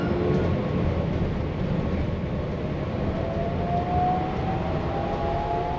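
Inside a National Express RB 48 regional train near Köln-Mülheim, a steady loud rumble of wheels and motor fills the carriage, with a faint rising whine building toward the end and no talk.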